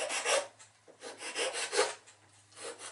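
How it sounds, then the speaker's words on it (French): Hand sanding of a small carved wooden toy pirogue, a soft rhythmic rasping in quick back-and-forth strokes, close and quiet, with no talking. "Quand ça va être affiné, je vais le poncer."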